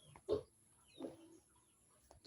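A couple of low grunting oinks from a pig, fairly faint and spaced apart, with quiet background noise.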